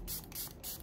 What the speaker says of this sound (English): I'm going to spray this now while my face is still completely unset